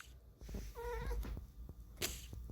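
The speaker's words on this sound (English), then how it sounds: "you can hear my cat in the background" A single cat meows once, fairly soft and drawn out, over quiet room noise with a few small clicks and taps.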